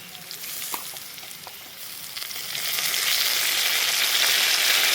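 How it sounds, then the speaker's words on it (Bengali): Spices sizzle in a hot pan with tomato, ginger paste, chilli paste and ground cumin. The hissing fry is steady, then swells louder and brighter partway through, with no voices. "জিরে গুঁড়ো একটু, এগুলোকে ভেজে নেব।"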